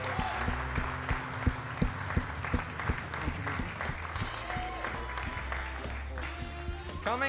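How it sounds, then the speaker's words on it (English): At a high school male pageant, the audience applauds a contestant with steady clapping and crowd noise over a music bed with a thumping beat. "Round of applause for Tom Ken, everybody!"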